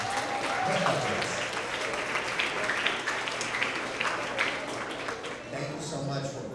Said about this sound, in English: let's give her a big round of applause for her efforts